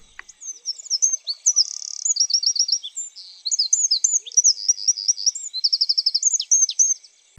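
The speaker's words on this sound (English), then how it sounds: "a house wren chattering from a fence line" A house wren chatters and sings from a fence line in rapid, bubbling trills and buzzy rattles, delivered in bursts with brief pauses, clear and close against a quiet background.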